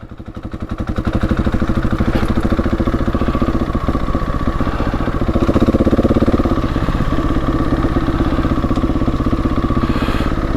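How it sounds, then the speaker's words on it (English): A Husqvarna 701 Enduro single-cylinder motorcycle engine braking after a downshift into first gear, a steady loud rapid thumping putter with a slight swell midway, close to the microphone. "See what the engine braking's like."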